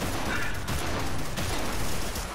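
Dense, continuous rapid gunfire aimed at a T-Rex in the Primal Carnage video game, a loud unbroken barrage of overlapping shots without pause.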